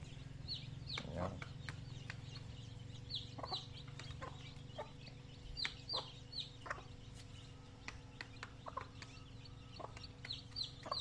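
Newly hatched native chicks peep in quick high chirps while hens cluck low and steadily close by, a busy overlapping chorus of brief calls over a faint background hum.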